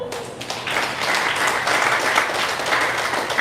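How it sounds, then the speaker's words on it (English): Audience applause at a small gathering of about ten ticket buyers at an anniversary event, a steady dense patter of clapping that rises after a brief start and holds at an even level throughout. "Let us clap for these people."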